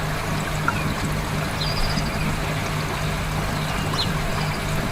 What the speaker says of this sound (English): So that's got the water flowing through that box.